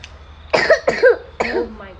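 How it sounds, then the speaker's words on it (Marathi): A two-year-old boy gives three short, close coughs in quick succession, each a sharp bark with a throaty tail, over a quiet indoor background. "तुला खोकला आला?"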